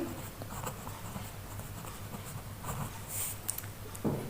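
A maths equation being written out by hand, with quiet, scratchy pen or chalk strokes in short irregular bursts over a low background hum, a few sharper taps near the end.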